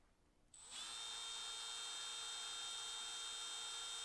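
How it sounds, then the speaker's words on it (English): A high-pitched power drill spins up after a moment of quiet and whines steadily and loudly, grinding through hardened steel on a Caterpillar bulldozer at close range. "So I've got a way harder drill bit now."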